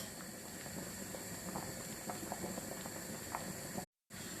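Lentil soup with coconut milk bubbles at a steady boil in a pot, a dense continuous hiss with small popping bursts, close and even throughout.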